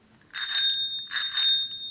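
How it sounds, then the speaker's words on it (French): A Hello Kitty bicycle bell for a child's bike rings in two bright, metallic bursts a moment apart, each with a quick double strike, close and clear with no talk. "une sonnette pour le vélo de ma fille, donc en Hello Kitty"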